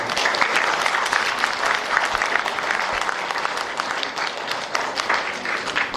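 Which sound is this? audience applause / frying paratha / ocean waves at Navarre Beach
audience applause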